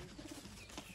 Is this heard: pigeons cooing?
yes